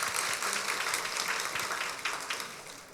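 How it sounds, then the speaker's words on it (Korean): A church congregation claps at a Friday evening service, a moderately loud, close patter of many hands that carries on steadily throughout. "하나님께 영광의 박수를 드리고"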